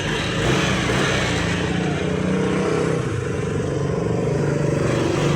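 A Yamaha Aerox 155 scooter engine runs close by with a dense, steady mechanical roar that holds evenly throughout.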